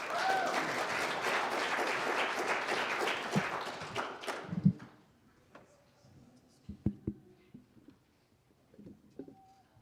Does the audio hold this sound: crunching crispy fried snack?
no